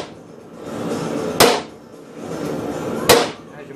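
Hammer striking a chisel cutting steel for forge tong assembly: two sharp ringing metallic blows about a second and a half apart, close and loud, with quieter scraping between.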